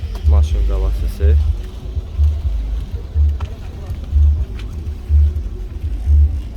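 A 2005 car with about 372,000 km on it idles at a car market, heard from the front as a low engine rumble with a slow, regular throbbing pulse, while people talk nearby.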